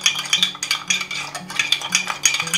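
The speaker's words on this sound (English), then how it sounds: "I'm just going to mix these until they're smooth." A utensil scrapes and clinks steadily around a bowl, stirring in quick repeated strokes, close and fairly loud, with no talking.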